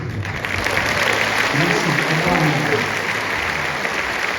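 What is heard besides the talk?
audience applause at concert tribute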